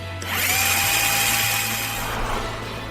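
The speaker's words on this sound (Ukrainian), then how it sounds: "У шиномонтажі пропонується пневматична дриль, але завдяки стандартному шестигранному затиску на чверть дюйма можна використовувати будь-яку дриль" A corded or pneumatic drill spins up for tyre repair, a sustained whirring whine with a steady motor hum that rises in pitch, then winds down near the end, close and loud with no talk.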